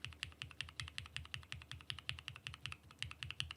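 Steady, even typing on a SixtyFive mechanical keyboard fitted with POM switches and a POM plate, each keystroke a crisp, close clack in a quick regular rhythm, with no voices.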